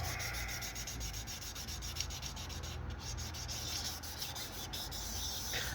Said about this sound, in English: 11 minutes straight I've been sanding for